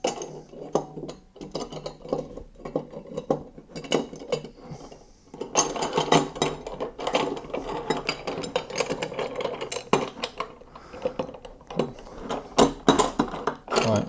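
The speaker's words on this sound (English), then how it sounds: "Then you slide this into your rail." A ceiling track trolley is pushed into its metal rail, giving a close series of scraping, clanking metal knocks and rattles that grow busier and louder partway through and keep going without talk.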